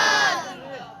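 A crowd at a religious gathering shouts back in unison to a slogan, a loud massed roar of voices that peaks at once and then trails off within a second.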